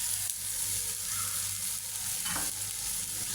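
Noodles with vegetables and noodle masala stir-frying in a pan, with a steady loud sizzle and a brief utensil scrape midway, close up and without voices.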